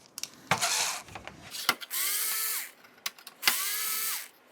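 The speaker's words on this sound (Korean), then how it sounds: "나사를 풀어주시면" Screws being removed from an Atomiswave arcade board with a powered screwdriver, three short whirring bursts near and moderately loud, separated by clicks and handling taps.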